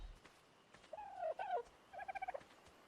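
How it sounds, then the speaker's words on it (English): A chicken in the video game Ark: Survival Evolved gives a short burst of faint clucking and gobbling calls, a few drawn notes followed by a quick stuttering run, quiet under low background noise. "I hear a chicken."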